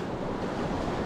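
Sea waves wash through shallow water around a wading angler's legs over round rocks, a steady rushing surf close by, mixed with wind buffeting the microphone.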